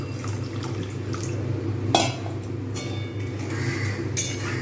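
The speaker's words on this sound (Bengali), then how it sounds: "যেহেতু এগুলো সব ফুটে উঠেছে তাই আমি এর মধ্যে একটুখানি জল দিয়ে দেবো" Water poured into a simmering Bengali doi bhetki fish curry, a steady low bubbling bed with a brief splash and trickle near the pan, no voices.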